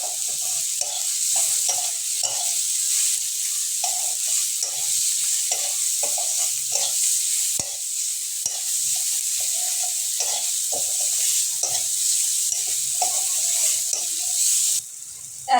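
Onion sautéing with green chilies, turmeric and salt in a pan for egg and potato cutlets, a continuous bright sizzle broken by repeated short scraping strokes of a spatula, close and steady.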